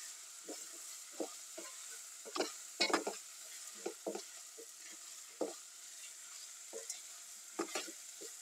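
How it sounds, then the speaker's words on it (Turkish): Carrots and capia peppers being sautéed in a pan, with a soft steady sizzle under a run of sharp spatula scrapes and stirring clatters that come at irregular intervals, close and fairly quiet with no talking. "Tekrar birkaç dakika kavuracağım."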